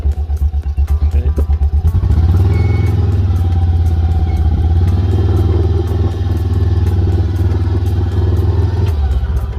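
A 2019 John Deere Gator XUV590M utility vehicle, tested after a CVT rebuild, idles with a loud, close, pulsing engine note that steadies into an even drone as it is shifted into high range.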